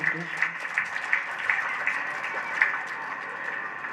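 An audience at a school annual day claps with a steady patter of applause, while someone speaks over it.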